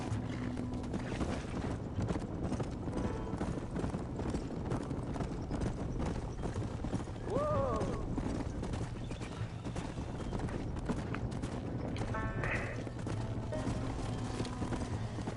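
Steady horse hooves clip-clop along at a walking pace in the video game Red Dead Redemption under a low ambient drone, with a brief whinny partway through.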